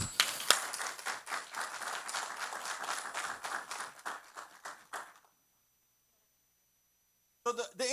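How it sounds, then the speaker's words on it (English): An audience claps in a steady, rhythmic unison for about five seconds, fairly close and lively, then stops abruptly into silence before a burst of crowd noise returns at the end. "put your hands together. Let's clap."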